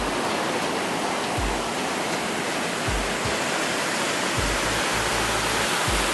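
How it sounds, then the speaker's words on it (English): Storm water gushes from a drainage discharge point into the Awan River, a loud, steady roar of rushing water with deep rumbling surges and no pauses. "The level of water from this discharge point at Awan River is simply mind-boggling."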